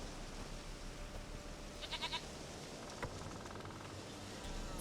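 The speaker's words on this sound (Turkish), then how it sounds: "Keçi var." A goat in The Witcher 3 gives a short bleat over a steady game ambience, brief and moderately clear, followed by a faint second call.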